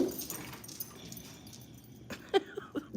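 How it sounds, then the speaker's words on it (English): Dogs whimper and give short yips and barks at close range, the sounds clustered in brief bursts near the end after a quieter, noisy stretch. "Dogs are gonna scare us."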